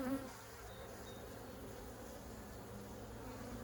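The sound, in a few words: honey bees buzzing around a hive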